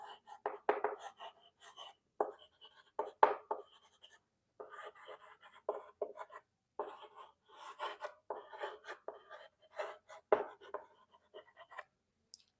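Chalk or marker scratching and tapping on a board during a semiconductor physics lecture, irregular short strokes in quick bursts with brief pauses, fairly quiet and close, no talk over it.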